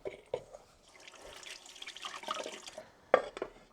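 Warm water pours into a bowl of flour, salt and yeast to make dough, a soft, quiet trickling splash with a louder splash near the end.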